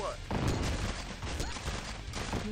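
Gunfire in the strategy game Command & Conquer: Tiberian Sun, with a sharp sniper-style shot, dense crackling battle noise and explosion-like bursts filling the short stretch at steady loudness.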